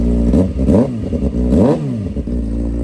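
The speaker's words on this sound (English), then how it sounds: "Gotta let the bike warm up for a little bit." A motorcycle engine, just started, idles and warms up in a shop, with repeated throttle blips rising and falling in pitch, loud and close, with no talking.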